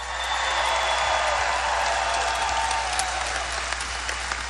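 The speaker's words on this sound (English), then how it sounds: "So give him another round of applause for Chief Wiley of West Melbourne." A large crowd at a 2016 Donald Trump campaign rally in Melbourne, Florida, claps in dense, steady applause that holds at full strength throughout, with no voices standing out.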